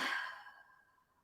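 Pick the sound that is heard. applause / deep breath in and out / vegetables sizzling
deep breath in and out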